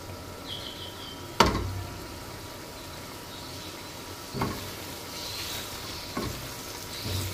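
Eggs for khagina fry over a high flame with a steady soft sizzle, broken by a few sharp spatula knocks and scrapes against the pan as they are stirred, with no talking.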